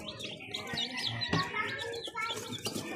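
Several young sweater-breed chicks chirp in quick, high overlapping peeps close by, with a quiet voice speaking underneath.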